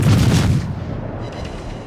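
Warship main batteries firing in World of Warships, a loud booming salvo that rolls off into a fading rumble.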